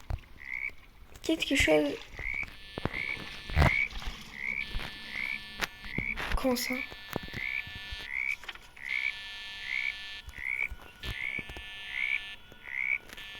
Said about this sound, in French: Il y a une grenouille.